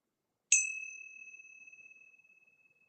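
A meditation bell struck once during a Sunday meditation, a clear bright ding that rings out alone and decays slowly over a couple of seconds into quiet.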